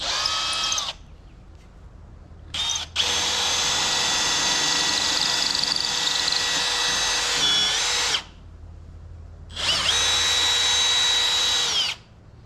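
A power drill bores a 1/4 inch pilot hole through a boat hull, with loud close whining bursts: a short run, a brief stop, a long sustained spin of about five seconds, a pause, then another run.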